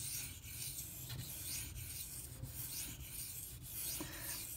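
An s90v steel knife edge is rubbed on a 1K whetstone in repeated close, gritty strokes, with a soft rasping scrape that returns about every half second at an even rhythm and no talk.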